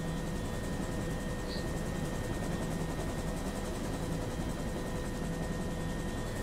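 Steady helicopter engine drone from a flight simulator game, with a constant rotor whine, even and unbroken throughout, fairly quiet and without any talking.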